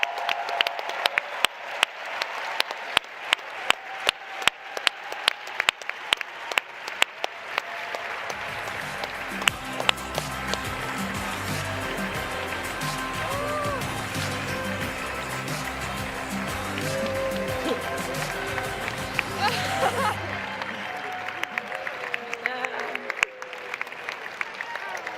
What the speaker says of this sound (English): put your hands together and make a thunder of applause for the team ChangeNOW